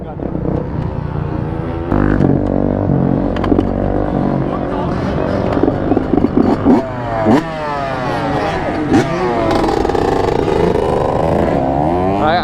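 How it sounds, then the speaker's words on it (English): An 85cc-era 125 two-stroke dirt bike ridden around a stunt lot, its engine revving in rising and falling bursts with sharp whines, heard amid people talking nearby. "I guess today's test ride Lars's 2-stroke"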